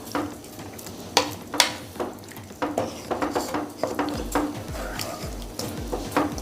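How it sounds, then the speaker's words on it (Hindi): A spoon scrapes and stirs through grated carrot halwa in a pan after about 500 grams of milk goes in, with repeated knocks against the metal and a soft simmering sizzle underneath, close and steady. "दूध को भी हम अच्छे से मिक्स कर लेंगे।"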